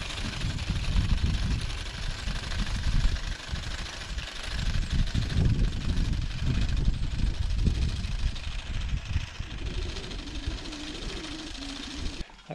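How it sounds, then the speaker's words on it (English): A farm mowing machine's engine runs continuously at moderate distance, a rough low drone with wind buffeting the microphone and no talking. "if you run this mow machine all day long, it's just as bad"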